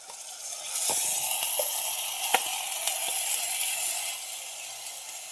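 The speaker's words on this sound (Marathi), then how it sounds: "हे मसूर आणि तांदूळ टाकून झालेले आहेत मी मस्त त्याला हलवून घेतलं पूर्ण" Soaked whole masoor lentils and rice tossed into a hot oiled pan for masale bhaat, giving a steady sizzle with scattered sharp clicks and scrapes of stirring, and no voices.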